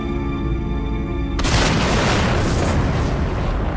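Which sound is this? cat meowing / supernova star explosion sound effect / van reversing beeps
supernova star explosion sound effect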